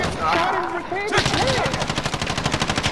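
Rapid automatic gunfire in the online shooter Call of Duty Warzone, a steady rattling string of shots close and loud after a voice speaks over the opening moment.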